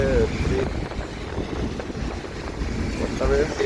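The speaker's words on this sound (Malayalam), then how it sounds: "കാറ്റടിച്ച്" Strong wind roars against the microphone in heavy rain near Nashik while travelling with a load, a loud continuous buffeting rush with gusts rising at the start and end.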